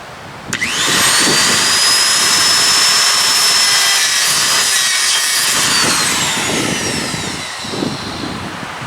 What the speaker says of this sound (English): I'm going to use the die grinder with the internal dingle ball and take off any of the inside slag